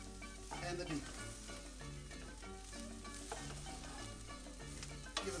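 Beef, onions and rice sizzling in olive oil in a pan, a steady close crackle with regular scraping stirs and a sharp knock near the end, no talking.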